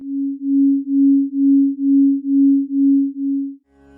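Two slightly out-of-tune sustained tones sound together, their clash producing a steady, regular beating pulse about twice a second for several seconds before stopping abruptly.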